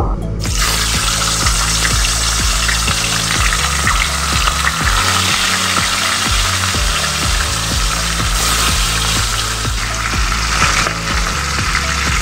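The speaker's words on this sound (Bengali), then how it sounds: "তেল গরম হয়ে গেছে, এবার আমি একটা একটা করে মাছ তেলে ভেজে নেব।" Bata fish pieces frying one by one in hot oil in a wok, a loud steady sizzle and crackle running throughout with no one speaking.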